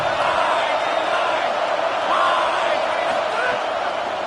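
At a college football game, the home crowd makes a broad, sustained stadium roar on a third down, loud and continuous, with a commentator talking over it.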